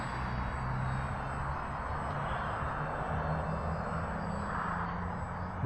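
A UMX Turbo Timber Evolution RC plane drones steadily overhead, its small electric motor giving a constant, fairly faint whine against a broad outdoor hiss throughout.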